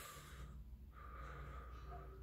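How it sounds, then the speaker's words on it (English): A deep breath is drawn in and let out with a soft, airy, snorting rush that sits very faint and close, with a short pause between the inhale and the exhale. "take a deep breath in and out"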